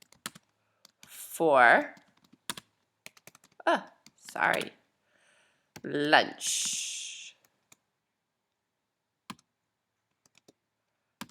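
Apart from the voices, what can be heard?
typing on a computer keyboard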